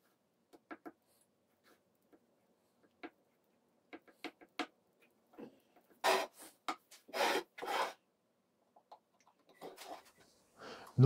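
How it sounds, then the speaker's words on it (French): Small wooden shim of the same wood spreading filler paste on a wooden tray, giving soft intermittent scraping and rasping strokes, sparse at first then several longer, louder rubs near the middle, with no talk. "je fais le choix d'utiliser une petite cale du même bois pour étaler ma pâte"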